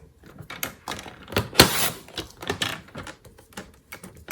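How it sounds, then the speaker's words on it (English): A paper trimmer slices a 4 by 6 inch sheet down to 3 7/8 inches during a card-stamping class, giving a few close scraping and clicking cuts with one sharper burst midway. No one speaks. "So I'm going to cut this down to measure 3 7/8."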